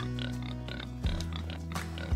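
Pigs being raised for meat grunt and oink up close in a few short, loud bursts, with no talking.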